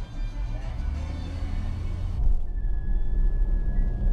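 A 2016 Cadillac SRX accelerating on a Florida highway, heard from inside the cabin as a deep, steady engine and road rumble that swells louder midway, with a thin electronic tone appearing after the rise.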